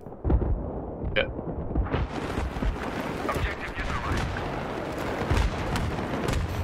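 Mortar rounds in a 32-versus-32 online shooter match on a bazaar map thud and boom repeatedly, heavy blasts landing near and far amid gunfire, with players talking over the chaos.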